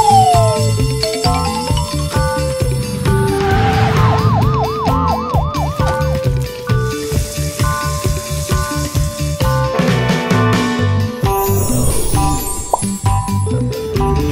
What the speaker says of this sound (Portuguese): Caminhão de bombeiros.